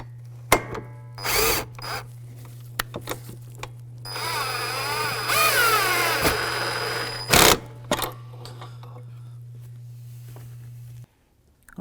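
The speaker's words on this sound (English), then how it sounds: "our last screw will go right in the middle." A power drill drives a Phillips screw into a plastic radiator support cover on a 2015-2019 Hyundai Sonata, with short whirring bursts, then one sustained high-pitched run and a brief final burst, over a steady low hum.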